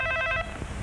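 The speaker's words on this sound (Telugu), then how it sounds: "కాసేపు మోగని, తర్వాత తీస్తానులే" A telephone rings with a rapid electronic trill for about half a second, then breaks off into quiet room noise.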